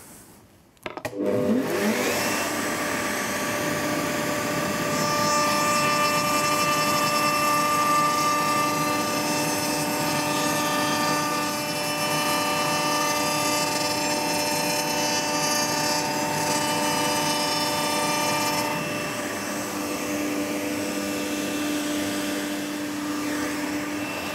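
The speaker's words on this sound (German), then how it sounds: "Mit ruhigen Bewegungen schrägt der Trommelbauer die Ränder auf beiden Seiten ab." A router bevels the outer edges of a wooden drum shell on both sides, a loud steady high-pitched motor whine with cutting noise that starts abruptly after a second and runs continuously, close up, with no talk.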